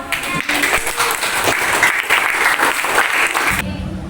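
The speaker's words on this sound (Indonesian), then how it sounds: "Ajan sama Robi tepuk tangan dulu dong." A class of university students claps in steady applause for a few seconds, then it cuts off abruptly.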